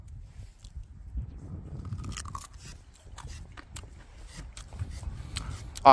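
Crisp crunching bites and chewing of a raw carrot, close and fairly quiet, in a run of short crackly bursts with soft mouth noise between them and no talking.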